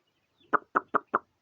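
Chickens on a small poultry farm give four short, evenly spaced clucks, close and clear against a quiet background, with no talking.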